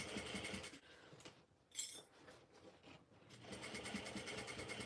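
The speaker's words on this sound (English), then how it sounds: "I'm just sewing it with my seam allowance in the pattern." Sewing machine stitching the seam of a beachcomber pouch, a steady close mechanical whir that halts briefly in the middle with a few light clicks, then runs on again.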